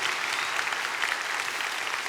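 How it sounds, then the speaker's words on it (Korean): A church congregation at a Korean Sunday worship service applauds their pastor, with dense, even clapping from many hands that fills the hall for about two seconds. "우리 담임 목사님 수고하신다고 박수 한번 해야 돼요"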